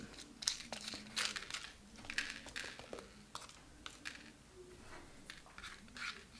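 A handmade craft shaker with loose contents is shaken by hand, giving quiet, irregular rattling and crinkly clicks in repeated bursts, close by, with no voices.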